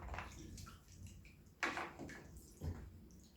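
Hands are washed in a basin of water during a manicure, with soft swishing and a few sharper splashes and sloshes against a quiet background, and no talking.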